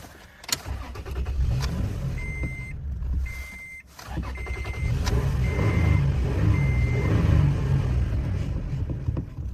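Car engine idling and running with its MAF sensor unplugged, a steady low rumble close by that steadies after a brief dip, with a few faint electronic beeps and clicks over it.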